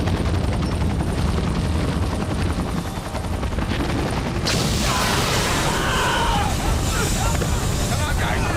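A helicopter's loud, steady rotor roar fills a chaotic rescue scene near a reactor and does not let up, with shouting voices mixed into the din.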